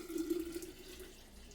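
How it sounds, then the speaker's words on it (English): Brine poured back into a half-gallon container, a steady, close liquid stream that is fullest at the start and gradually thins out over about a second and a half. "We're going to go ahead and grab our brine and pour it back into our half-gallon container"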